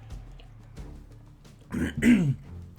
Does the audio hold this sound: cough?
yes